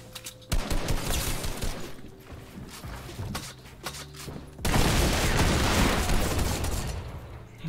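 A double-barrelled shotgun fires in a video game: one heavy blast, then a second louder one about four seconds later, each followed by a dense, noisy roar of game action. No one speaks.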